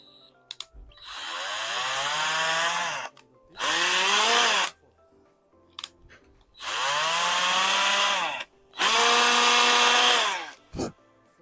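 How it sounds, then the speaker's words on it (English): A power drill whirring through holes while building a 3D-printed gantry for a Sovol SV08 printer, in four loud bursts of one to two seconds each, each slowing in pitch as it bites, separated by quiet pauses with small handling clicks. "I will use a little bit the drill."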